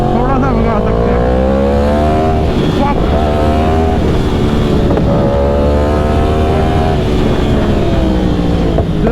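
A Yamaha R1 sport bike, just fitted with a new fuel pump after a fuel pump fault, accelerates hard, its engine climbing in pitch through several gear shifts, loud and close with heavy wind buffeting the microphone.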